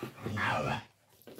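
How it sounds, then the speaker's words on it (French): A pet dog growls and whimpers indoors, one close, loud, rough grumble trailing into a brief whine and then quieter snuffling, with no speech. "Je suis désolée pour le bruit, hein, le chien"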